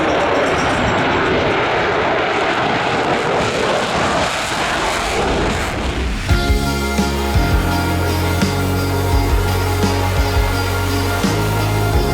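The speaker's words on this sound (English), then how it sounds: "Gonna watch the F-35." An F-35 fighter jet flying at an air show, a loud and steady roar that holds for the whole stretch and then turns into a harsher, tonal engine whine partway through.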